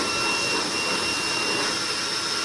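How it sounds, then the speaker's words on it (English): A RevSquared automatic hand dryer blows steadily, a loud, close, unbroken rushing whoosh with a faint high whine, lasting the full couple of seconds without any voices. "So this is the RevSquared automatic hand dryer"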